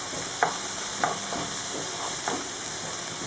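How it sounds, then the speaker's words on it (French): Onion and garlic sautéing in a pan for a tomato sauce, a steady close sizzle with a few soft scraping stirs at regular intervals, no talking. "Je fais revenir mon oignon un petit peu avec l'ail."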